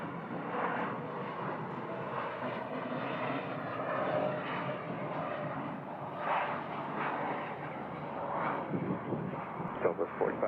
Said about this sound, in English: a Pilatus PC-24 coming in from Montgomery Field in San Diego